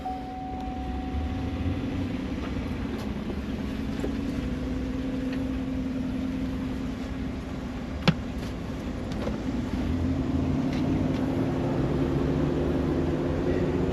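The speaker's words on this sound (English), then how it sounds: "you open up the vehicle, turn it on, let it cool down a little bit" A car engine idles steadily after being started on a hot day, a constant low hum with a faint higher whine and one brief click partway through, no talking.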